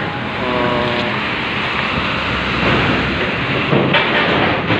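Moderate sea waves wash and surge at a ferry harbour. A steady roar carries a louder swell near the end, with a brief low tonal hum early on.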